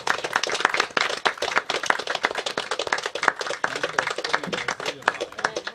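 Audience applause at a folk song concert, with dense, sustained clapping from many hands filling the whole stretch at a moderate level.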